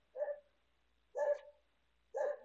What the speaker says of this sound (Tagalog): ingay naman ang aso na to